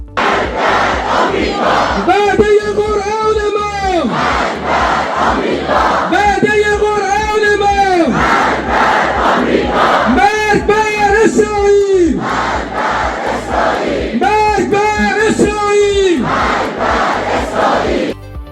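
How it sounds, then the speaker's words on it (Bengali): Protesters in Tehran chant slogans for peace in loud, rhythmic bursts, four repeated chant phrases rising from a dense, continuous crowd roar. "তারা স্লোগান দিয়েছেন শান্তি ও সার্বভৌমত্ব রক্ষার জন্য"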